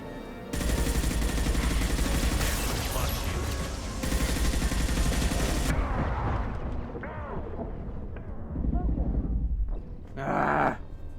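Rapid bursts of burst-rifle fire from the game Mass Effect 2, loud and dense, with a pause before further volleys and a final short burst, mixed with game effects and voices.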